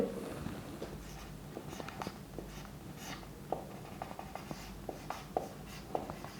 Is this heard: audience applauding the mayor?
no